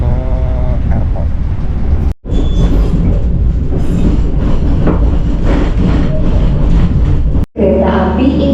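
Indonesian passenger train in motion, with a loud continuous rumble and rattle of wheels on track, interrupted by two brief cuts in the sound.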